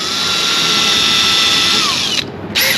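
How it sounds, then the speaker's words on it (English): A power drill bit grinds steadily through boat gel coat with a loud, continuous high whine up close, then briefly dips and cuts out before spinning back up at the end. "We're basically gonna just cut through the gel coat a little bit."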